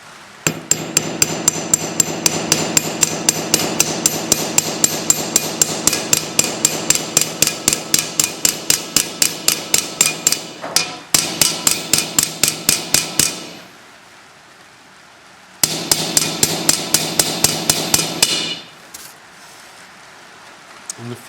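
Steel hammer tapping a rivet over on the sprocket nose of a chainsaw bar, a long run of sharp, rapid, evenly spaced metallic blows, close and loud, pausing briefly, then a second burst of quick strikes.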